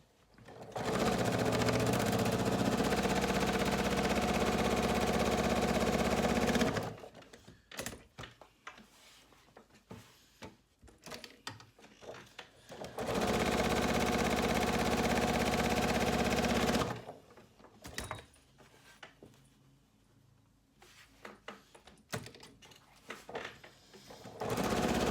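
A sewing machine stitching long strips of quilting fabric for half-square triangles runs in two steady whirring bursts of about seven seconds each, close and loud, separated by quieter handling noises as the strip is turned.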